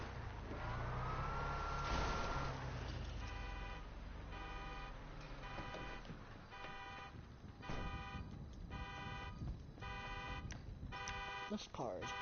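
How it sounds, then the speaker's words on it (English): Car beeping in a steady repeating pattern, a rapid series of electronic tones pulsing in regular bursts for several seconds, moderately loud over engine rumble and background noise, with a person talking at points. "This car is beeping like that."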